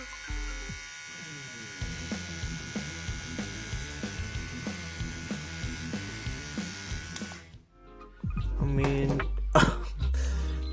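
Xiaomi Enchen electric hair trimmer cutting hair, a close buzzing hum pulsing in a regular rhythm as it runs through the hair, then cut off, followed by rustling and handling noises.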